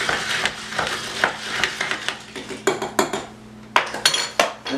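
A spoon stirs a virgin mojito topped with ginger ale in a glass, producing a run of close, bright clinks and rattles at an uneven, quickening pace over a faint fizzy hiss, with no talking.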